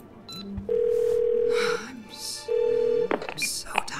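A telephone dials emergency services in the video game 12 Minutes, producing two long, steady electronic tones separated by a short gap, with faint clicks and movement around them.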